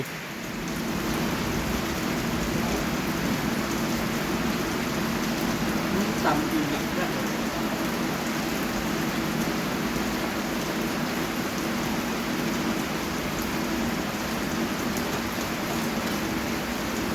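Steady, dense rain hiss fills the whole stretch, continuous and fairly loud, with a faint murmur of voices in the background.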